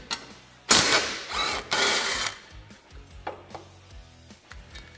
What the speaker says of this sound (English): we'll go ahead and remove all four of these bolts here.